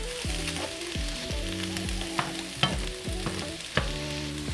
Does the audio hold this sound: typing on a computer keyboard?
no